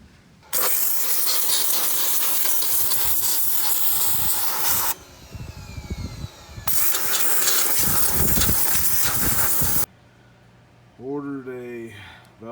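A pressure washer sprays onto a 3.7 L cylinder head from a 2005 Jeep Grand Cherokee at home. The loud hissing blast comes in two long bursts with a short pause between them, and a voice speaks briefly after.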